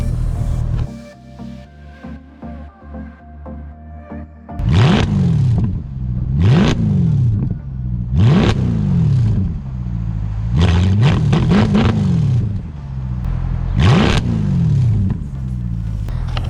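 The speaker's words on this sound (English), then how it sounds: "I'm gonna give you guys a couple revs" Mercedes-Benz C63 AMG with a 6.3-liter V8 idling steadily, then blipped through about six sharp revs that surge and fall back, several in quick succession, loud and close with no talking.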